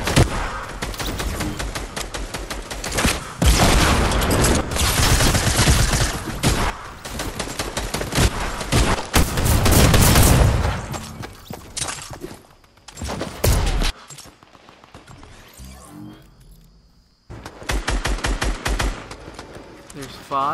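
Fortnite gunfire crackles in long, dense bursts of rapid shots, loud and close, broken by short pauses and quieter stretches, with a voice talking over parts of the shooting.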